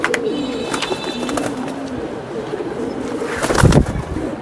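A Giribaj pigeon coos close by while being handled, low rolling coos under a busy ambient background, ending in a louder rustle or flutter near the end, no speech.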